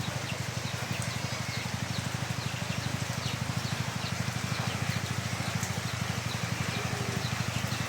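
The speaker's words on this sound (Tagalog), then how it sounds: "Grabe na ulan to." Heavy rain pours steadily during a flood in Mindanao, a dense, continuous hiss close by with faint patter and a low rumbling undertone throughout.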